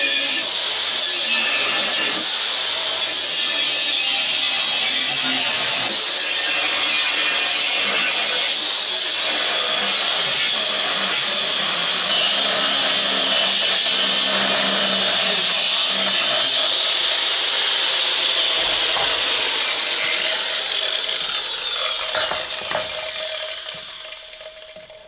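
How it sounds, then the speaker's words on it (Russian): Metal is cut on an old Volvo F12 truck chassis during a tow truck build, a loud continuous hissing whine that holds steady for over twenty seconds and then dies away at the end. "Пилим."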